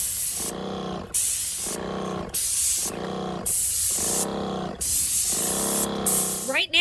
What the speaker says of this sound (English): Right now we're spraying a primer.